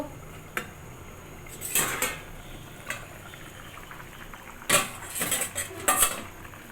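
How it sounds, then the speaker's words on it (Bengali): The lid of a pot of homestyle chicken curry comes off with several close metallic clanks and clinks, spaced irregularly over a faint background hiss. "আমি ঢাকনাটা খুলে একবার দেখে নেব"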